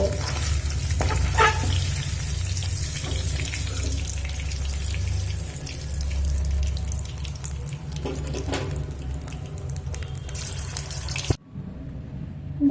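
Paneer pieces fry in hot oil in a pan, producing a loud, continuous close-up sizzle and crackle for most of the stretch, with occasional stirring scrapes before it abruptly cuts off near the end.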